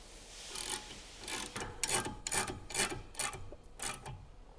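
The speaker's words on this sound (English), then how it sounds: "Hand thread the nut." A nut is hand threaded onto a Chevy Cruze sway bar link, giving a quiet series of about eight rhythmic metallic scraping turns, close and faint, with no talking.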